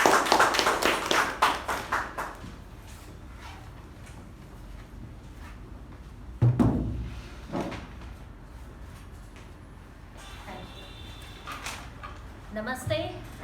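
A meeting audience claps to welcome the Toastmaster, a short burst of applause that fades within a couple of seconds, followed by scattered knocks and a voice talking.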